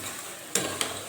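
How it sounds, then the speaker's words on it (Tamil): Tomatoes and onions frying in a pan for kara kulambu, a steady low sizzle with two sharp scraping stirs close by, no voices. "அடுத்தது தக்காளி நல்லா ஃப்ரை பண்ணணும்."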